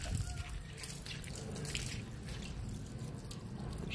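A restored tap runs water in a steady splashing stream close by, with faint dripping and low background rumble, and no one speaks.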